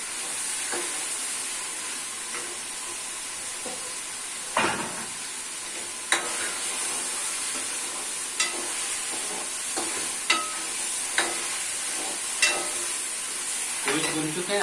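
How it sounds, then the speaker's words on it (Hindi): Meat sizzling and frying in a pot as it is browned for yakhni pulao, a steady hiss with occasional sharp clinks and stirring scrapes against the pot, close and continuous. "थोड़ा सा भूनना है।"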